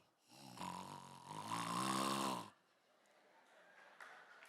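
A comedian on stage at a Malian comedy festival gives a loud, drawn-out vocal imitation of a snore, a single rasping snort lasting about two seconds, followed by quieter room noise.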